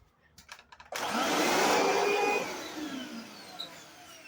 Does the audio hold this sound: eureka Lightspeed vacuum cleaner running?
yes